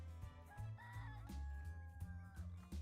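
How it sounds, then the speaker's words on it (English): A rooster crows in the farming video game Dinkum, one drawn-out cock-a-doodle-doo over soft game music, faint and fairly distant. "There goes the rooster."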